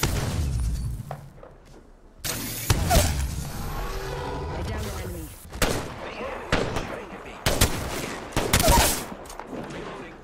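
Gunfire in a video game battle: sharp, loud shots and bursts at irregular intervals, some near and some further off, with voice callouts heard between them.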